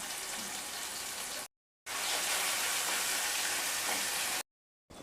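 Tomatoes softening in a hot pan while a Chettinad aviyal kurma is cooked, giving a steady, fairly loud sizzling hiss in two stretches broken by brief silent gaps.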